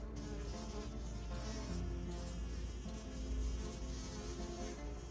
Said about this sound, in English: you can really hear the bees buzzing in there from the porch